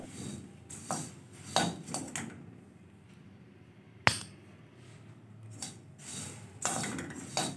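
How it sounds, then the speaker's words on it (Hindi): Spoon stirring puffed rice frying in a metal pan, scattered clinks and scrapes at an uneven pace with a sharp knock midway, close and fairly quiet. "बस चम्मच चलाते जाएं और इनको फ्राई करते रहें।"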